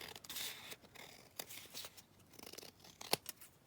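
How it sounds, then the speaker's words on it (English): Scissors trim the edge of a sheet-music paper envelope, giving faint, brief snips and papery rustles close by, with one sharper cut near the end. "I'm just going to again trim this down on this edge."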